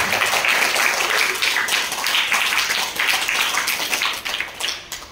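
A group claps and applauds to open a maths session, a dense and steady burst of hand claps that lasts the whole stretch at a moderate distance.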